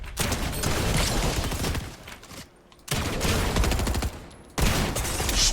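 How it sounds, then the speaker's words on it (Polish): Rapid automatic weapon fire in the Fortnite video game comes in dense, loud bursts separated by short pauses, sharp repeated shots crackling close up. "Czego on do mnie strzela?"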